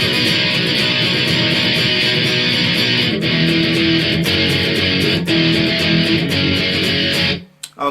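Electric guitar plays verse B of a song as a dense, continuous, loud chord-driven strum with a steady rhythm, stopping abruptly near the end.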